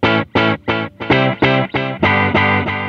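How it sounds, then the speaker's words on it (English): Electric guitar through the main delay of a Fender Reflecting Pool pedal, loud distorted notes struck in an even rhythm with repeats that blend into a fuller sustained wash, no voices. "So here's just the main delay."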